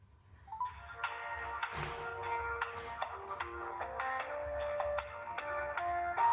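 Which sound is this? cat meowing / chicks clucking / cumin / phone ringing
phone ringing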